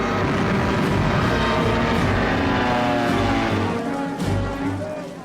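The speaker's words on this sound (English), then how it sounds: "The Stukas and medium bombers proved devastatingly effective." Stuka dive bombers and other aircraft roar overhead in a loud, sustained engine drone that fades slightly toward the end.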